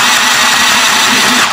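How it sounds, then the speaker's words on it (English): A KPCB mini sewing machine running steadily, a loud, close, continuous motor whir with a faint rhythmic needle chatter, heard alone for a brief stretch. "we're going to let it sew a little bit."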